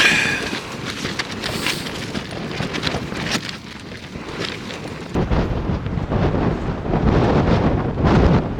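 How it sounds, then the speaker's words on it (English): Breezy morning wind on the Pennine Way, loud continuous buffeting and roaring across the microphone that surges stronger toward the end, with no speech. "Another breezy one this morning."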